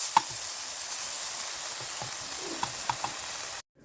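Onion frying in a pan for a Cajun shrimp dish, a steady broadband hiss of sizzling oil with a few small pops and taps, close and even throughout, ending in abrupt silence.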